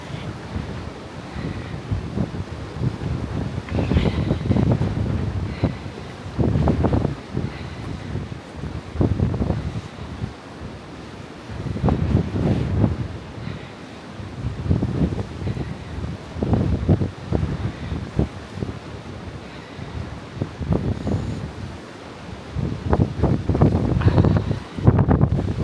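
Strong coastal wind buffets the microphone in repeated heavy gusts, loud roaring bursts rising and falling over a constant low rumble of surf.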